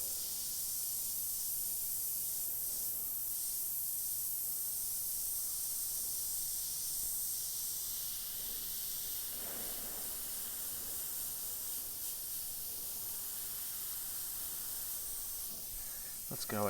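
Soft continuous hiss of an airbrush spraying paint through a skull stencil, steady and close, with a faint brief voice near the end.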